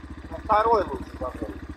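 A motorcycle engine rumbles steadily in gear with an even low throbbing pulse, running beneath people talking throughout.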